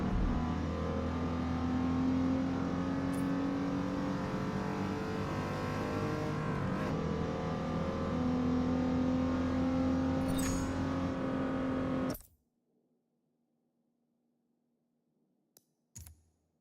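A Gran Turismo 7 race car engine holds a loud, steady, buzzy drone with strong harmonics for about twelve seconds, then cuts off abruptly to near silence broken by a couple of faint clicks.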